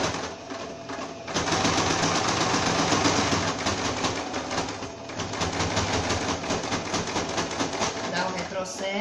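Sewing machine stitching the seam along the far side of a small bag's bellows gusset, running steadily up close in dense, rapid stitch pulses after a brief stop-and-start at the beginning.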